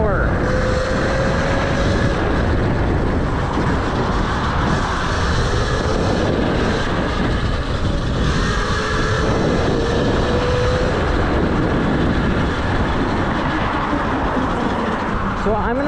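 Modded Tuttio electric bike accelerating up to about 30 mph, with a loud, steady rush of wind and motor whine that rises slightly in pitch over a long stretch.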